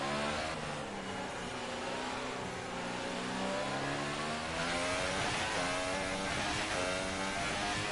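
An F1 car engine in the F1 2018 racing game screams at full throttle, a loud, continuous high-pitched roar with rising and falling pitch sweeps through gear changes, with no talking.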